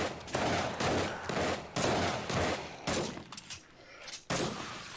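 Gunfire in the video game 7 Days to Die comes as several rapid bursts of shots, separated by short gaps and fairly loud, with breaking and shattering crashes mixed in.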